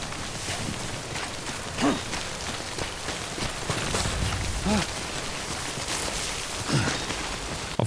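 Steady rain falls across the open terrain of the video game Death Stranding, a continuous hiss of drops on the ground with a few soft footfall-like thuds mixed in.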